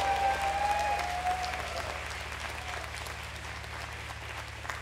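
A live concert audience at a show applauds the vocalist with sustained clapping that starts strong and slowly fades over a few seconds, with a low hum beneath.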